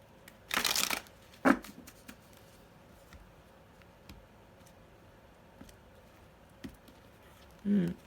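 Archangel oracle card deck being shuffled, with a burst of riffling cards near the start followed by a couple of shorter, softer card shuffles and taps in a quiet room.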